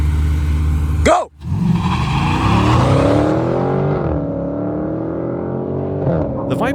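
A Dodge Viper and a Dodge Challenger launch in a drag race, engines roaring loud and close after a brief gap, with rising revs, shifting pitch and a sustained high-power drone.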